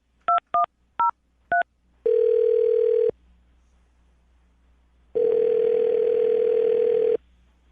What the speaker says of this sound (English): I'm going to dial the phone number right now and see if we can get Simone on the phone